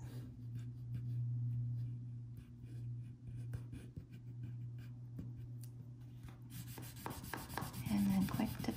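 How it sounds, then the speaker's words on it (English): Crayon coloring a sky blue on paper, a soft steady rubbing and scratching of wax strokes, close and quiet, with some handling noise toward the end. "try and get your crayon to color smoothly for you."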